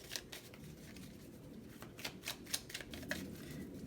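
Tarot cards being shuffled, a quiet series of soft rapid flicks and taps over a low steady background hum.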